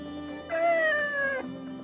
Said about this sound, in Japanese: こいつはいつもの黒猫だな。